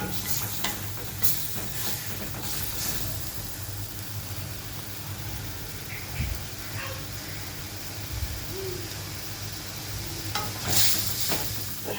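Spice paste for a shrimp curry, made with sour yogurt, fries in a pan with a low, even sizzle. Occasional stirring scrapes sound through it, with faint background noise and no clear voices.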